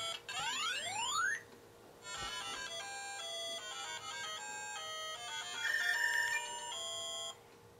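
LEGO Super Mario Builder Mario toy playing its electronic goal jingle: a quick rising and falling arpeggio sweep, then a bright, bouncy sequence of beeping square-wave notes from a small speaker, with no talking.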